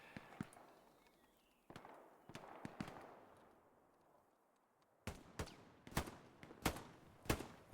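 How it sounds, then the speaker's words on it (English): Sharp gunshots from a large-scale multiplayer war shooter match fire over a wall toward a trench: a few scattered cracks early, then a rapid run of loud reports near the end, with distant battle ambience between. "He's shooting up over the wall towards that trench."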